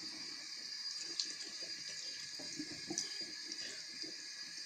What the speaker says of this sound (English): just start pouring water on it, and you just simply wash it